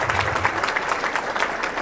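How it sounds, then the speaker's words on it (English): Brief burst of clapping from a gathered group, steady and fairly loud throughout, with no voices over it. "give the staff who's working really hard here at Grace Gardens a round of applause"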